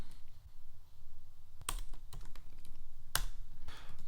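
Keys clatter on a computer keyboard while code is typed, a run of light irregular taps with two sharper, louder clicks standing out, close and with no voice over it.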